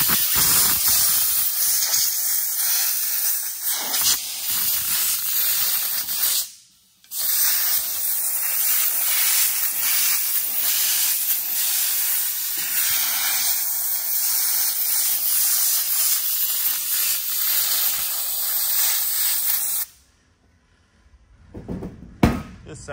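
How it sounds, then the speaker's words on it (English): A loud, steady hiss of compressed air from a nozzle blowing out an engine gasket groove for several seconds, cutting out briefly once and then stopping near the end. "Air nozzle coming in. I'm gonna go through this groove and just blow all that out"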